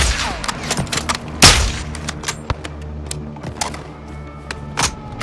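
Cartel gunmen return fire in Call of Duty Modern Warfare II, scattered sharp gunshots and a louder blast punctuating a steady background hum, irregular bursts near and far with no talk over them.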